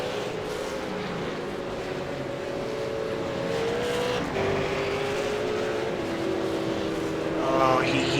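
A V8 Supercar lapping the Suzuka circuit during a race broadcast, its engine howling in rising and falling tones through gear changes and braking, steady and fairly loud, with commentary partly beneath it.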